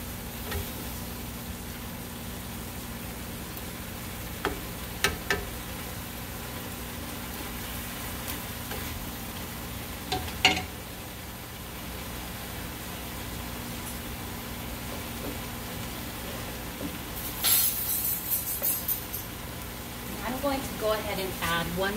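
Miswa patola soup with silk squash (loofah) cooks in a pan with a steady, quiet sizzle and bubbling texture throughout, a few brief clinks partway through and slightly busier stirring sounds near the end.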